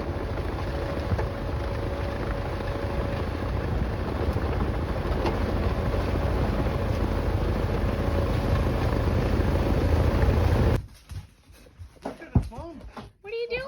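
A tractor-mounted snowblower clears a snowy driveway on an Alaska homestead with a loud, steady engine roar and rushing drone that cuts off abruptly near the end, leaving quieter ambient sounds.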